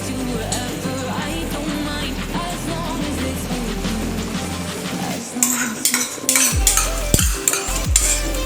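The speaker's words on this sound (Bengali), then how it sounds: "এটা খুব ঘন দই, এটা আমি আনিয়েছি। তো এটা আমি ফার্স্টে এটাকে ফেটিয়ে নেব।" Thick yogurt whisked in a bowl, first as a soft steady swishing over a low hum, then sharper clinks and scrapes of the utensil against the bowl toward the end.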